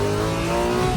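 A Lamborghini Murcielago engine runs loud and close with a steady, deep harmonic drone that holds throughout the second, without any talking.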